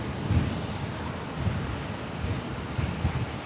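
A Dash 8 turboprop rolling down the runway for takeoff at Brisbane Airport, a steady broad engine roar with a low rumble, moderately distant and even throughout, no talk over it.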